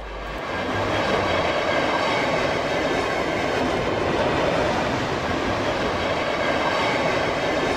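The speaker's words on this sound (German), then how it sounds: "überquert der Sonderzug die Gutachbrücke" A steam special train rumbles steadily past at close range crossing the Gutach bridge on the Höllentalbahn near Neustadt, its wheels clattering in a continuous dense roar with no voices over it.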